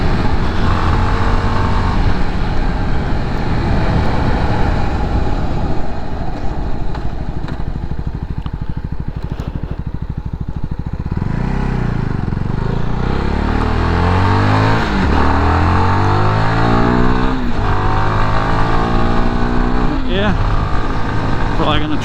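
A CF Moto 300 NK motorcycle on the road, its engine droning loudly and continuously with rising and falling revs as it shifts gears and accelerates, heavy wind rush throughout, and a rider talking over it.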